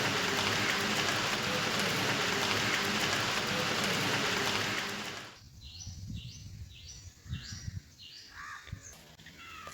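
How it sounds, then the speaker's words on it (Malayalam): Light drizzle patters steadily in a home garden for about five seconds, a soft even hiss that then stops abruptly, leaving quiet air with scattered bird calls and chirps. "നന്നായിട്ട് ചാറ്റൽ മഴ തുടങ്ങിയിട്ടുണ്ട്."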